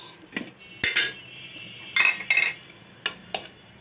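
A few sharp metallic clinks of cutlery against plates and dishes as food is served, arriving in irregular bursts with quiet gaps between them.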